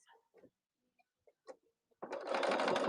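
A few faint clicks and taps, then a sewing machine stitching scrap-fabric pin cushions starts up abruptly into a loud, steady, close whir.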